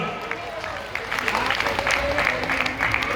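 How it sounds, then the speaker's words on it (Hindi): An audience claps along at an outdoor Bundelkhand kirtan, rhythmic clapping blending with crowd noise and a voice over a sustained musical drone. "ताली बजाने के लिए तैयार हो जाओ"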